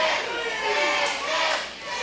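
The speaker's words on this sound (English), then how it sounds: "Crowd chanting chicken." A wrestling crowd at a ProSouth Wrestling event chants "chicken" together, a loud, sustained roar of many voices swelling and dipping in rhythm.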